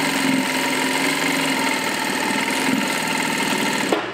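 A Juki DDL-5550 industrial sewing machine stitching fast, a loud, steady, rapid mechanical whir and chatter running continuously at close range before stopping abruptly at the end.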